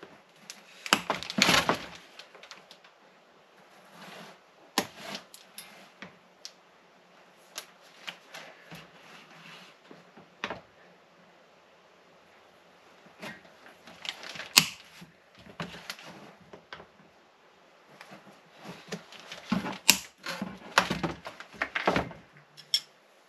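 Plastic motocross fairing panels from a 2024 Kawasaki 450 KXF kit being cut to fit a 250 KXF, heard as close, irregular bursts of crisp snipping and cracking with quiet pauses between them.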